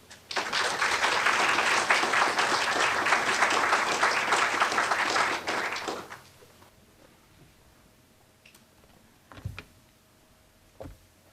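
An audience claps loudly and steadily for about six seconds to welcome a presenter at a spring honors thesis presentation, then the applause cuts off, leaving a quiet room with a few soft knocks and shuffles.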